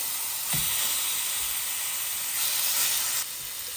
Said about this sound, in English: so I can sear the whole chicken in